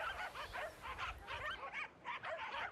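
Several corgis yipping and barking at the Corgi Cup race at Saratoga Racecourse, a rapid overlapping chorus of high yaps heard faintly at a distance, with no talking.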